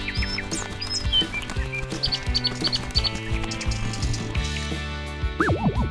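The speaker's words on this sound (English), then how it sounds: "Suddenly, a little bird lands and pecks at Dad's ice cream." Small cartoon bird chirping in a Bluey animation park scene with the family on a bench eating ice cream; a few short bright chirps rise over steady background music.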